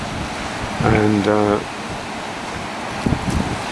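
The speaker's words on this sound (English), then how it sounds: "It is very windy." Strong wind and surf at Sennen beach make a steady broadband roar and rush throughout, with someone speaking briefly over it near the start.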